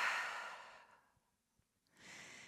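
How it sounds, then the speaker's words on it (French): A long, breathy open-mouth exhale during a yoga sun salutation, loud at first and then fading. A pause follows before another soft breath rises near the end. "Ouvre la bouche, expire."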